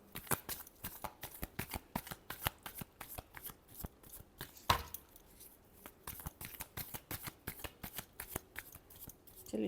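Tarot cards are shuffled by hand in a long run of quick, crisp riffling flicks and taps, close and fairly quiet, with one sharper snap partway through.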